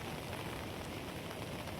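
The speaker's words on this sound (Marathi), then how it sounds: "दुवाधर पाऊस आहे आज पण" Heavy downpour pours steadily over a Konkan farming village, a dense, unbroken hiss of rain hammering surfaces with no pauses or voices.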